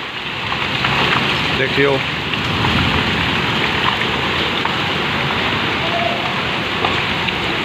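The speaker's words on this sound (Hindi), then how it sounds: "ओले देखियो, ओले कितने बड़े बड़े हैं" Heavy rain mixed with large hailstones pours down on a village, a dense, steady roar of impacts close by, while someone talks briefly over it.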